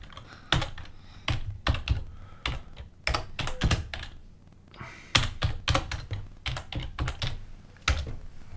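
Steady bursts of computer keyboard typing, close and clear, with irregular clusters of keystrokes and brief pauses between runs, no voices.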